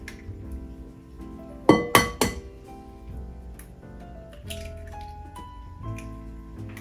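Two eggs crack and drop into a bowl of salmon patty mix: a quick pair of sharp clinks against the rim, close and clear, followed by quieter glassy taps and light scraping in a quiet kitchen.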